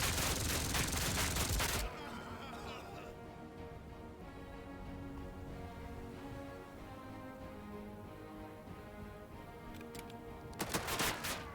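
Automatic fire from machine guns in a WWII tactical turn-based combat game, with a dense loud burst of shots at the start, a quieter stretch of game ambience, then another sharp volley near the end.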